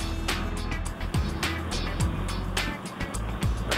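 A four-wheel drive fitted with Old Man Emu suspension runs at about 80 km/h into an electronic stability control test area under steering-robot control, giving a steady close road and engine roar with tyre noise throughout.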